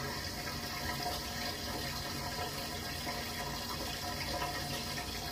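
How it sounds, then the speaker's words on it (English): Water runs at full pressure down a washing machine drain pipe that had been overflowing, a steady rushing, gurgling flow that stays even throughout with no voices. "we're running full pressure down and the water is draining very, very good"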